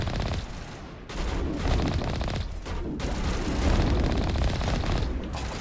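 Enemies fire relentlessly at the Mako vehicle in Mass Effect Legendary Edition: dense, continuous bursts of rapid gunfire and impacts with heavy low rumble, sustained and loud with only brief dips.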